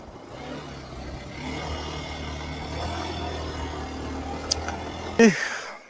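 A motorcycle engine hums and revs lightly while riding, with a steady low drone that builds a little before a sharp clunk near the end.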